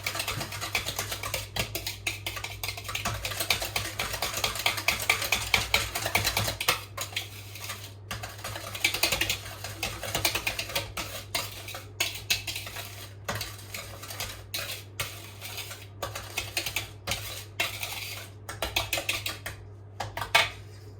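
Cookie dough ingredients mixed in a bowl, a steady run of close utensil clinks and scrapes against the bowl with quick clicking strokes throughout, no talking.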